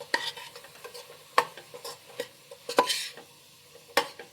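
Bisi bele bath spice powder being stirred into fried vegetables in a pan, with a few sharp spoon scrapes and clinks against the metal over a soft, quiet background.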